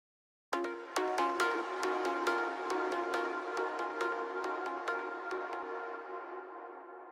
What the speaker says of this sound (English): there's a harmony pluck that plays in the intro